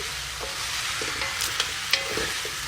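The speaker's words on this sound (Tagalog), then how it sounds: "Palambot na natin to. Halu-haluin lang natin." Boiled pork hock stirred in a pot, a steady soft bubbling hiss with a few scraping knocks of the spoon, including two sharper clicks near the end.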